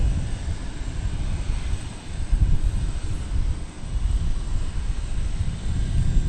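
Steady broadband roar of a narrow-body jet airliner at DFW Airport, heard continuously at moderate distance with light wind buffeting and a slight swell midway, no voices.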